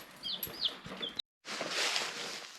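Young chicks give high, thin peeps over a bed of soft clucking from farm chickens, fairly close and moderately loud, with a short silent gap midway before a busier, hissy stretch of the flock.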